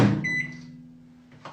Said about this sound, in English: we're just going to put it back in the microwave for a few more seconds